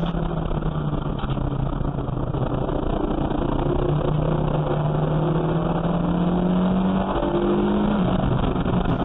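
A racing car engine on the Knockhill circuit in a Junior Saloon Car Championship round, heard from on board as a loud, continuous drone that rises and falls through gear changes and throttle, with no talk.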